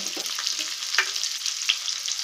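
Garlic and onions fry in hot oil for methi tomato rice, giving a steady, close crackling sizzle with a few sharper pops and spatters.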